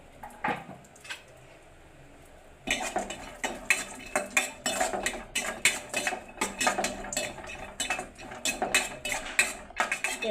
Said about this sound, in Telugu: కట్ చేసి పెట్టుకున్న డ్రై ఫ్రూట్స్ని కూడా వేడి చేసుకుని తీసుకుందామండి